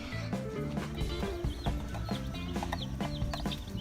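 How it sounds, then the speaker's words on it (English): Backyard Rhode Island Red and Longhorn hens cluck and chatter close by in a busy, overlapping flock, their soft calls repeating over a faint outdoor background. "The chickens,"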